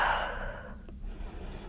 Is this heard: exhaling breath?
yes